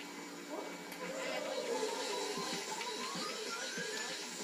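Steady whooshing suction of the vacuum in the video game Luigi's Mansion during a gallery ghost fight, a continuous hissing airy drone with wavering tones lasting throughout at moderate level.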